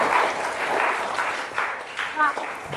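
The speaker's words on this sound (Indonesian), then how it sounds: "tepuk tangan buat si Dinda" Students in a classroom clap briefly for a classmate, a modest patter of hands lasting a couple of seconds, with a voice speaking over the end.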